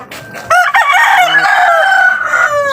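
A rooster crows once, loud and close, a long drawn-out cock-a-doodle-doo rising then trailing off, with faint clucking at the start.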